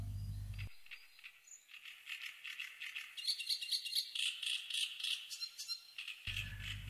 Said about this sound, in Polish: Tu rozbrzmiewa charakterystyczny śpiew niepozornego, brunatnego ptaszka trzciniaka.